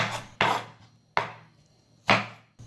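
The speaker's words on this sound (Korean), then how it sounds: "먼저 오이를 채 썰어주세요." A kitchen knife slicing cucumber into thin strips for raita, striking the cutting board in three crisp, well-spaced chops, up close with no voices.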